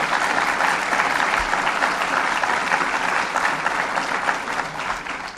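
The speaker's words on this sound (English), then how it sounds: "Let's give him a round of applause." An audience claps in a dense, sustained round of applause at a governor's announcement event in an art gallery, loud and steady throughout.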